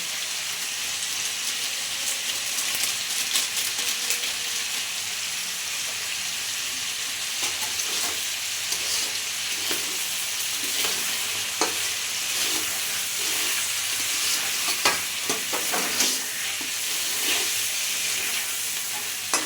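Ground coriander and meat masala spices frying and being stirred in a pan for bhuna khichuri, a steady close sizzle with scraping stir strokes throughout.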